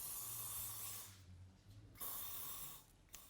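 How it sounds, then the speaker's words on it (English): Two hissing bursts of hairspray from an aerosol can onto back-combed hair, close and soft, each lasting about a second with a brief pause between. "And put some spray on there."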